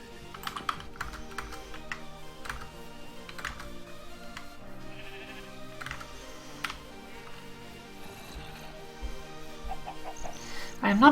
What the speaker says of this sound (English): Oh, Rooster found the way out again.